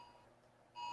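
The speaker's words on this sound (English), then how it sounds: "Amber Alert just came through." An emergency Amber Alert tone sounds from a phone, a faint steady electronic beep that swells louder near the end, with no voices.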